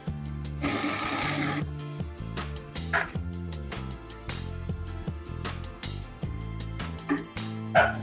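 Sewing machine stitching salwar fabric, its motor running in short stop-and-start bursts of rapid stitching, close and clear with a few small handling knocks between runs.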